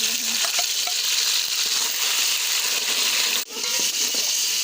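Tomatoes drop into hot ghee with browned cumin and fry with a loud, steady sizzle, a few clattering stirs and crackles, and one brief dip before the frying hiss resumes, all close and with no talking.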